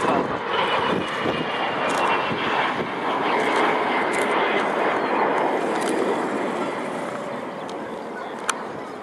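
The Avro Vulcan XH558 delta-wing jet bomber passes during a flying display, a broad loud roar of jet engines sustained across the whole stretch with a few faint crowd noises beneath.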